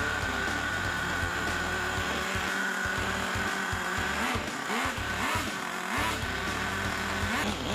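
Rascal nitro RC car, started by pull-start and driven off, with a continuous high buzzing small engine that revs and warbles as it speeds up and slows, loud and close throughout, with no talking.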